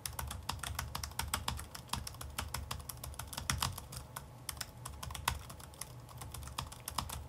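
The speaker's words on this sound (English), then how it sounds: "try to type on this keyboard so you can kind of hear it" Steady, rapid typing on a Maingear Vector Pro 2 laptop keyboard, a run of crisp tactile key clicks heard from about three feet away, moderately quiet with no voices.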